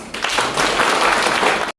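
A church congregation at a monthly worship meeting breaks into loud, dense applause, sustained clapping for nearly two seconds before it cuts off abruptly.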